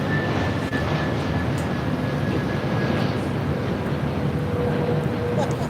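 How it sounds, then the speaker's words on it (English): An American Airlines A321neo airliner arriving at LAX on a flight from Philadelphia, heard as a steady, broad jet roar that holds evenly for several seconds, with faint voices in the background. "This is American Airlines 1799 coming in from Philadelphia on an A321neo"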